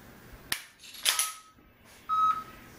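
Dry-fire trigger clicks from a P365XL pistol used with a laser training app, sharp close snaps spaced about half a second apart, with short electronic beeps between them and no talking.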